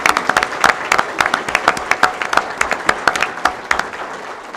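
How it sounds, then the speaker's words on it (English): A small crowd at a school board meeting claps for award recipients, a loose scattering of sharp individual claps, close and fairly loud, with no voices over it. "How about just one more round of applause for all of our recipients?"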